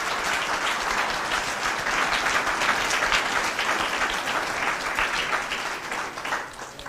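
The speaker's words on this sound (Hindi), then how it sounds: "तो तालियां बजा के," A congregation claps together during a Hindi church sermon, producing steady, full applause for several seconds that swells in the middle and then thins out toward the end.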